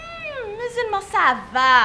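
A pet cat meows several times in an apartment setting, with rising and falling drawn-out cries that are close and fairly loud, mixed with a person speaking.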